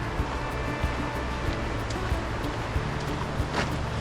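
A mountain river above Glen Ellis Falls rushes steadily through low drought-season flow, giving a broad, constant roar with no breaks. The sound stays dense and close and fills the whole stretch.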